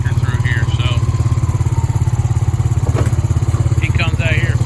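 A four-wheeler ATV engine idles and chugs steadily close by, a low pulsing throb with faint voices speaking over it.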